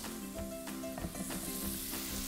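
Scallops sizzle steadily as they sauté in a hot pan, a continuous close frying hiss with faint clinks and stirring noises, no voices.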